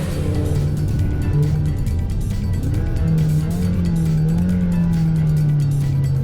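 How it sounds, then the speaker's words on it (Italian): A Ferrari 348 engine driven hard on a race track, a steady loud drone with a rising, wavering engine pitch in the second half, close and continuous throughout. "Il motore sa esprimere bene la sua cavalleria ed in pista il suo rendimento è perfetto"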